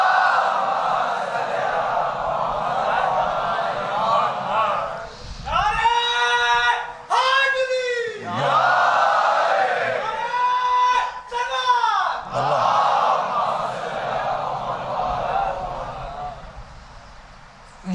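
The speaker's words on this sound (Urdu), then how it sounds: "صلوات پڑھ دیے با آواز بلند." A congregation at a Shia majlis during Ashra at Imambada Afzal Mahal in Lucknow recites salawat aloud in unison, two swelling chanted phrases of many voices that rise over a murmuring, reverberant hall.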